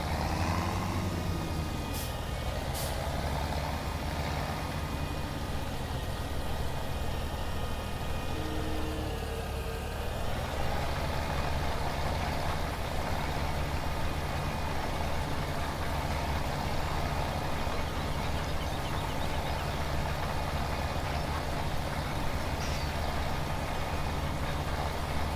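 A tractor engine in Farming Simulator 17 drones at a steady idle-like rumble, loud and unbroken throughout, with game music mixed in.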